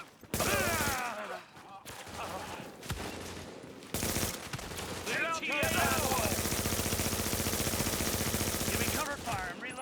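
Rapid bursts of video game gunfire, loud and close, break out in rattling automatic volleys with brief pauses, building to sustained dense shooting in the second half as voices call out over the noise.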